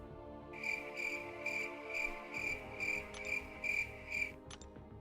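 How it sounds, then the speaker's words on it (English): Cricket chirps as a comedic sound effect after a bad joke: a clear, close, evenly spaced series of about eight shrill trills, loud and alone, ending with a couple of short clicks. "Crickets, dude."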